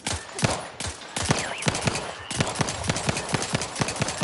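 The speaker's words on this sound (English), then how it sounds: "Oh, so I'm shooting at the turret" Shotgun fire aimed at an armored turret in Outer Worlds 2, a rapid string of loud, close blasts and impacts in steady rhythm, layered with ongoing combat noise throughout.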